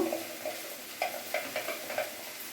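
A spoon scrapes a vegetarian banana flower dish with added sugar around a pan in a quick rhythm of soft strokes over a faint background sizzle.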